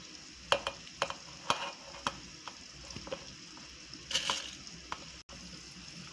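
Chopped fresh tomatoes hit a hot frying pan while cooking a dry anchovy sambal, giving soft sizzling under repeated scraping stirs and sharp clinks of the spoon against the pan.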